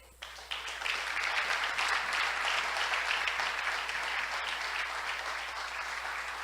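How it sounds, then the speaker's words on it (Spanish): Sustained applause from a church congregation during a Christian sermon, starting abruptly and holding steady as a dense wash of many hands clapping throughout. "Dale un aplauso al Rey"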